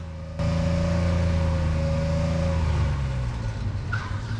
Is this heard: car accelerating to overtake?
yes